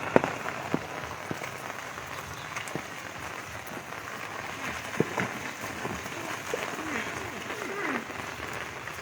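Steady rain hisses down, with occasional louder drops pattering nearby against a constant wash of falling water.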